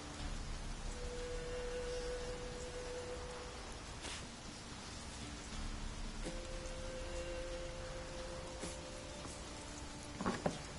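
Steady rainfall in The Witcher game, a soft even hiss of rain with faint tonal ambience and a couple of brief louder spatters, with no talk.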